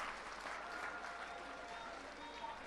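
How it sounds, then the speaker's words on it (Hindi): Steady, dense applause from a large crowd at an outdoor political rally at Jantar Mantar, continuous and fairly distant-sounding throughout with no voices standing out. "एक बार जोरदार तालियों के साथ जज साहब का शुक्रिया अदा कर दीजिए।"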